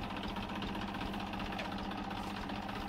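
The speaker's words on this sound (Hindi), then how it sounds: "ट्रैक्टर स्टार्ट करके आपको दिखाते हैं" A Massey Ferguson 245 DI tractor's diesel engine idles nearby with a steady, low, rough, knocking rumble that stays constant throughout.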